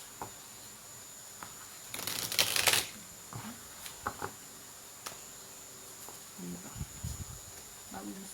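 Tarot cards are shuffled in one brisk, crisp riffle lasting under a second, followed by a few soft, faint card taps and handling noises in a quiet room.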